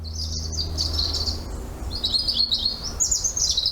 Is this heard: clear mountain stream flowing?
no